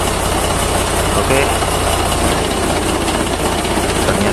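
An engine runs steadily with an MB170 gearbox installed, producing a loud, constant mechanical drone with vibration, while someone speaks briefly over it.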